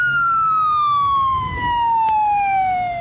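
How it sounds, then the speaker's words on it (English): A police car siren wails loud and close in a steady descending tone, heard alone without talk. "The police car and an emergency medical unit got there first."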